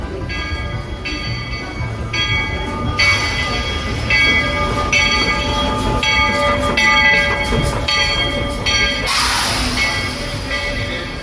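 The Walt Disney World Railroad train rolls steadily along with a continuous rumbling clatter, ringing tones and a rising hiss near the end, close and fairly loud.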